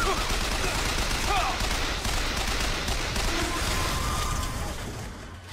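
A stationary automated turret in BioShock Infinite fires a continuous dense stream of shots, loud and close, holding steady for several seconds before tapering slightly at the end.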